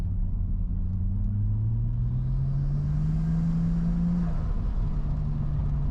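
A Nissan Skyline R34 sedan engine pulls hard under load in second gear, a loud steady drone with rising pitch as revs climb, then a brief dip near the end.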